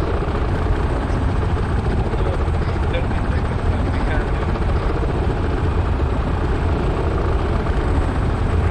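Video game helicopter during the Task Force Athena campaign mission, a loud, continuous rotor thump and engine drone filling the whole stretch, with voices talking over it.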